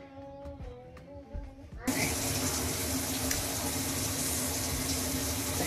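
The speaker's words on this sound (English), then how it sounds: "The shower is going, so I don't think I want to talk." A shower is switched on in a home bathroom: after a quiet moment with some faint background sound, water suddenly bursts out and runs in a loud, constant hiss that fills the rest of the clip.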